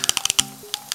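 The keypad of a Vodafone/Alcatel 354 mobile phone gives a quick run of sharp, close-up plastic clicks. Several rapid presses come first, then two more spaced taps, over a faint electronic tone.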